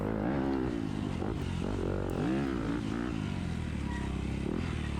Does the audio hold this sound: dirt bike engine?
yes